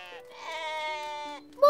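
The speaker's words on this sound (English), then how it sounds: "Oh! Sheep! There are sheep outside!" A cartoon sheep gives a single long, wavering bleat, close and clear against a quiet background, and a brief sharper sound cuts in at the end.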